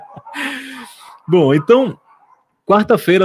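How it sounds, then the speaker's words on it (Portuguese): A dog barks outside a window a few times in short bursts, heard behind someone speaking nearby during a broadcast. "Perdão pelo cachorro aqui, lá da minha janela."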